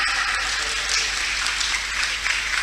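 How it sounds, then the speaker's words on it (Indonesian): An audience claps steadily at a large alumni reunion gathering, a dense continuous wash of applause throughout. "Tepuk tangan."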